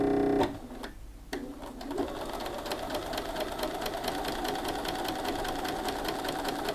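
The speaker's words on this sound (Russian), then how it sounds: "Потом давайте сделаем строчку вперед." A Bernina B590 sewing machine sews a forward straight stitch, a rapid steady mechanical whirring and ticking that starts after a short pause and runs continuously, close and clear with no talking.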